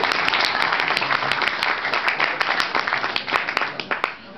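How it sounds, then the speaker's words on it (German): A carnival audience claps steadily, a dense close patter of many hands with sharp individual claps standing out, lasting throughout. "Klatschen Sie ruhig."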